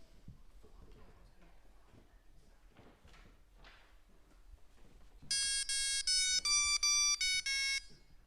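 An old electronic handheld game lets out a run of bright, shrill electronic beeps in a quick, rhythmic melodic pattern near the end, loud and close, after a stretch of quiet room noise and soft movement.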